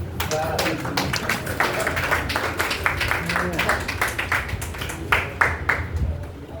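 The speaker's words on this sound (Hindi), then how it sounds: "एक बार एडवांस में तालियां चाहता हूँ" An audience at a ghazal poetry recital breaks into a dense round of clapping, sharp hand claps crowding together at close range and rising in a few louder swells before thinning out.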